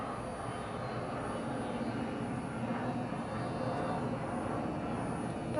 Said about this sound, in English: That's a very loud airplane.